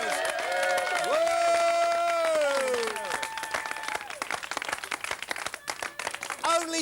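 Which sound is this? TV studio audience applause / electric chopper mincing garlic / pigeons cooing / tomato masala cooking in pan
TV studio audience applause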